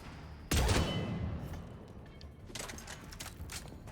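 Sustained automatic gunfire from squadmate Ashley in Mass Effect, starting abruptly as a loud burst and continuing as a steady rattling stream with shield impacts, fading slightly before rising again.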